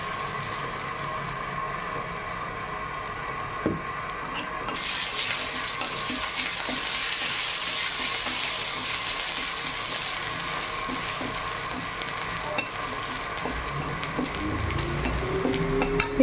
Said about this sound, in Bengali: একটু ভাজা হয়ে যাবে আদাটা